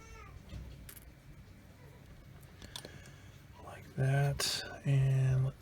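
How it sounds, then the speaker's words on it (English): A cat meows twice, loud and near, in a workshop during a model build, after soft handling sounds and faint whispery speech. "Cat here."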